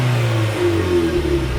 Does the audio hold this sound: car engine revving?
yes